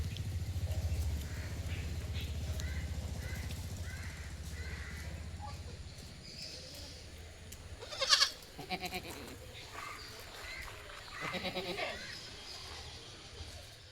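A young male goat kid about a month old, offered for sale at a livestock market in Manjeri, bleats a few times, with brief sharp calls around the middle and near the end, over ongoing background murmur and farm noise.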